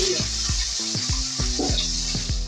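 Potatoes and eggplant frying in hot oil for a Bengali dish, a steady sizzle broken by repeated rhythmic knocks and scrapes of stirring, close and fairly loud.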